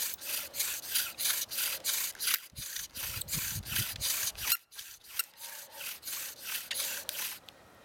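A bow drill spins against wood to start a fire, making a steady back-and-forth rhythmic rubbing and squeaking, about two strokes per second, close and loud, with a brief pause midway.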